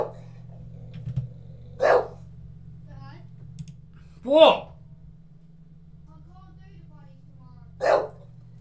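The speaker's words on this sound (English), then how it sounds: "Shut up, you set the dog off." Dog barking in a home, three short, sharp barks spaced a few seconds apart, fairly near, over a low steady hum, with a brief spoken word between them.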